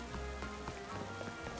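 Steady patter of rain falling in a video game, a dense, even hiss with small scattered drop ticks throughout, with no voices.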